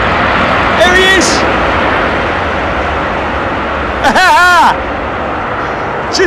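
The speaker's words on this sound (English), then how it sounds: "We got a big load of reverser from Royal Jordanian." A Royal Jordanian airliner lands on runway 27R at Heathrow, and a loud, steady roar of thrust reversers fills the scene from start to finish, with a voice talking over it.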